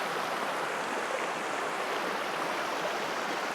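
A river on the Mae Yen waterfall trail near Pai rushes past in a steady, broad wash of flowing water, close and constant with no pauses, no voices over it.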